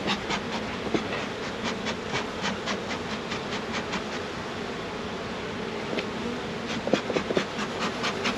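Honey bees drone steadily around an open hive being worked by a beekeeper with a smoker, a dense, continuous buzz broken by a few sharper passing buzzes near the end.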